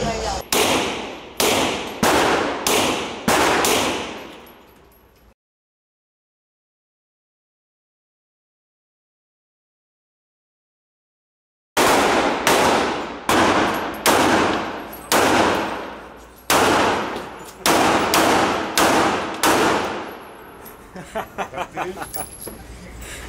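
Rapid bursts of heavy gunfire from large-calibre guns at a shooting range in Miami, loud repeated volleys in quick clusters, broken by a long silent gap before more rounds resume.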